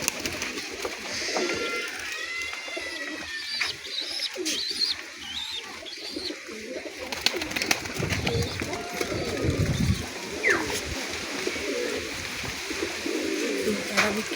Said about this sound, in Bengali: সেই পায়রাগুলো দেখাচ্ছি